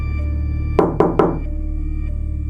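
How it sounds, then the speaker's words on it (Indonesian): Three sharp knocks on a door in quick succession, loud and close over a steady low hum, with a short decaying ring after each hit. "tiba-tiba ada bunyi ketukan di pintu"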